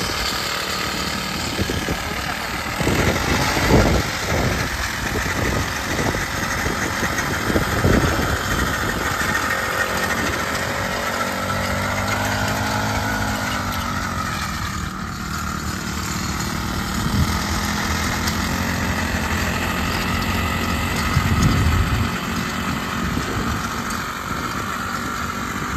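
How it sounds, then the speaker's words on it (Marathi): A small 2 HP two-stroke engine, just started with a rope pull, runs steadily with a continuous buzzing drone and a few louder rattling bursts. It sounds close and carries on without talk for the whole stretch. "हो, 2 स्ट्रोकचं 2 HP-चं इंजिन आहे"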